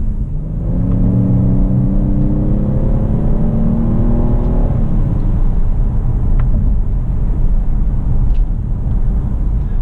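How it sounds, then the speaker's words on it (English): A 2018 Lincoln Continental Black Label with a 3-liter twin-turbo V6 accelerates hard. Rising harmonic engine tones climb steadily for about five seconds and then give way to a loud, steady road rumble. No one speaks. "the 3-liter twin turbo V6 has enough power to sort of make you forget about that"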